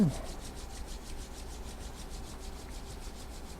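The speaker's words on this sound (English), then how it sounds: "rub the hands together" Hands rubbing together in a steady, quick back-and-forth rhythm, a soft, close, continuous swishing friction during a quiet Chi Gung practice.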